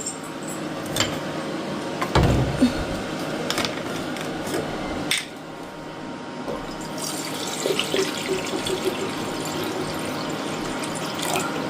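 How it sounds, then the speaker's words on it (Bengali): Water poured into a kadai (wok) in a home kitchen, a steady splashing pour with a few clanks of the pan, fairly close and running without talk. "কড়াইতে জল দিয়ে নিই আগে"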